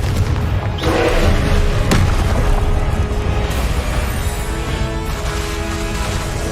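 In Hogwarts Legacy, a Confringo fire spell explodes with a deep booming blast, followed by rumbling combat effects and thuds under continuous game noise.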